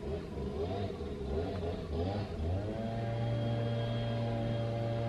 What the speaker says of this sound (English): that's the grass blower or whatever you call it.